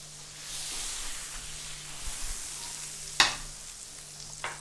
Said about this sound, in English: We are going to butter this grill up.